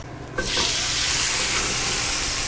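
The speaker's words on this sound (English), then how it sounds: "Just gotta keep an eye on that squash because it's cooking" Squash sizzles steadily in a hot pan, a loud continuous frying hiss that kicks in abruptly after a short quieter moment and fills the rest of the clip.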